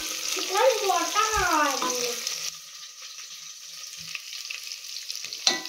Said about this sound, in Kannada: ನೆಕ್ಸ್ಟ್ ಕ್ಯಾಪ್ಸಿಕಮ್ನ ಹಾಕ್ಕೊಳ್ತಾ ಇದ್ದೀನಿ. ಕ್ಯಾಪ್ಸಿಕಮ್ ಸ್ವಲ್ಪ ರೋಸ್ಟ್ ಆಗಬೇಕು.